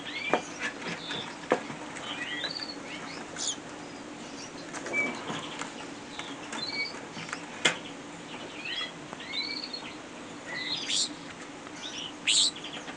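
A young bird chirps with repeated high calls while a green ring is fitted to its right leg, alongside faint rustling and handling noises in a quiet setting.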